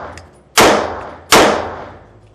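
A pistol fires at a target 21 feet away during carry-gun practice. Two sharp, loud reports ring out with a clear gap between them, each trailing off in a short echoing decay.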